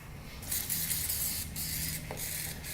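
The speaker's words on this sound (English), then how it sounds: "And with the compressed air in here, it should clear out all the passages." A steady, close hiss of compressed air spraying through the carburetor passages of a Warrior 350 runs through most of the clip, broken by a few brief pauses, with faint mechanical tones underneath.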